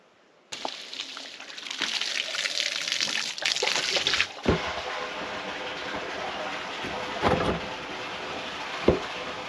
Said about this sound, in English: Now, I'm going to start filling the tote with water.